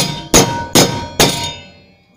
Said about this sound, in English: you're going to hold this at the angle that you want to bend at and just start hammering